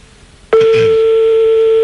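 A telephone line tone starts abruptly and holds steady and loud for over a second, heard on a French radio call-in show while a call is being placed.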